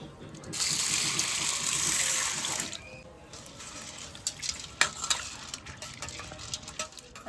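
Water runs from a kitchen tap over lentils (dal) being rinsed, a steady broad gush for about two and a half seconds, then quieter splashing and light clinks as the grains are swished by hand.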